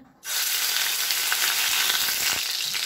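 Finely grated onion hitting hot oil, starting with a sudden loud burst of sizzling that settles into a steady, dense frying hiss with occasional light stirring knocks.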